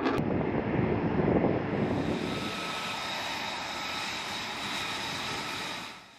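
The engine of an F-35B fighter jet with a vertical lift fan roars loudly and steadily, with a broad rushing noise that swells early and then holds at a slightly lower level before cutting off at the end.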